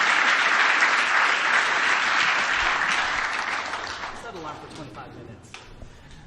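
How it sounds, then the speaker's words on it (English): Sustained audience applause for Baron Davis at a tech event, a dense wash of many hands clapping that gradually fades out, with a voice speaking over the tail end. "can we give some claps to Baron Davis here?"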